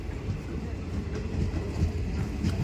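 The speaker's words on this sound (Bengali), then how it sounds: "চলো, ট্রেন চলে এসছে।" A train rumbling in close with steady low-frequency clatter and rolling noise, continuous and fairly loud, with no clear voices over it.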